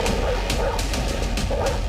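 A pitbull barks and yelps in quick repeated bursts during an attack on a child playing in a housing-society park, loud and close over heavy, constant background noise.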